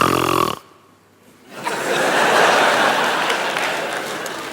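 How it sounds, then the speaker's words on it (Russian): A performer gives a loud, rasping snore in a Russian stage comedy sketch. It cuts off abruptly and, after a brief lull, a sustained wave of audience applause and noise swells up. "Не, моя храпела."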